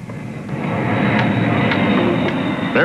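Jet aircraft at an airport, a loud, steady roaring engine rumble that swells in and holds close throughout.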